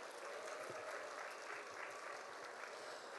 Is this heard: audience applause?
yes